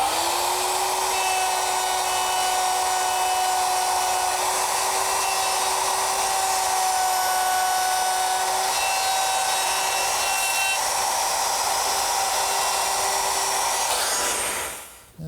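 A wood router fitted with a guide collar cuts a hinge mortise, giving a loud, steady high-pitched whine for several seconds. It winds down abruptly at the end.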